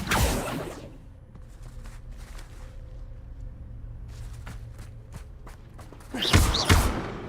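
An Accio summoning spell cast in the video game Hogwarts Legacy: a whooshing burst at the start, a low rumbling stretch, then a second louder swoosh and thud near the end.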